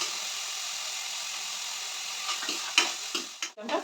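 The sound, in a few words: chopped capsicum frying with onion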